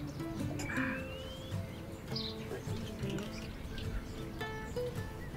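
Birds sing at an outdoor hotel terrace in Morocco, with assorted chirps, whistles and short trills scattered over a low ambient background, fairly faint.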